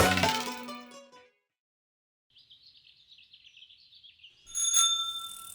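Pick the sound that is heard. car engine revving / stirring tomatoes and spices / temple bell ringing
temple bell ringing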